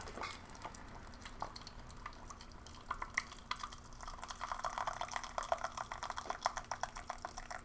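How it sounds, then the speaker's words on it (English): Boiling water is poured from a kettle into a cup for tea or coffee, a quiet trickling fill with small splashes that grows busier and more bubbly toward the end. "Boiling water."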